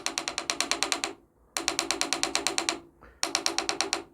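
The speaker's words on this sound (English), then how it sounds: "It's going to sound more kind of like a faint knocking noise." Engine spark knock from a failing knock sensor comes as fast, even, sharp ticking bursts, three runs separated by short pauses, loud and close with no talking.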